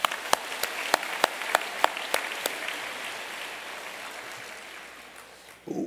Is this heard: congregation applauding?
yes